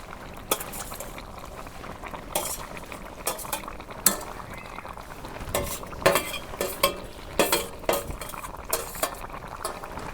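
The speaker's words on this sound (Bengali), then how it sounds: "এই দেখো এখন আমি টাহি মাছ যে আমি কষান করে রাখছিলাম দিয়ে দিই।" Pre-fried taki fish goes into a gourd curry in a pot, with sharp metal spoon scrapes and clanks against the pot in irregular bursts over a soft bubbling simmer.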